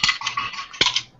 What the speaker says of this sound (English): I love that you can hear my dice in my microphone.